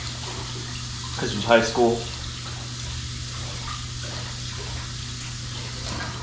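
Tap water runs steadily into a kitchen sink while food is rinsed for chili, a constant wash of flow throughout with a man's brief speech over it near the start.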